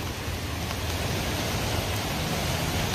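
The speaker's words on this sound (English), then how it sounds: "the rain's just not letting up. It's even heavier than when I was today." Heavy storm rain falls in Santa Rosa, California, a dense, steady hiss of downpour filling the air without pause and with no voices.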